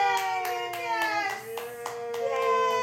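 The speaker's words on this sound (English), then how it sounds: "Can you clap?" A small child claps hands in a steady, evenly spaced series of soft claps while a high voice carries a drawn-out, sung-like vocal over them.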